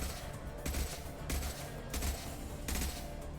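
Bursts of rapid gunfire in a sci-fi shooter game, firing in several dense volleys spaced through the moment, loud and close with no voices over it.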